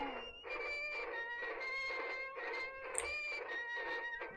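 A cat in a video game meows in a rapid, repeated series of short calls, about eight in a row, fairly close and evenly spaced, with no voices over it.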